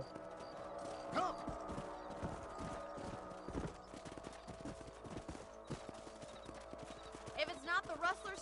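Horse hooves clip-clop at a steady riding gait in the Red Dead Redemption video game, close and rhythmic, with occasional snorts and game sounds mixed in and a voice talking over them.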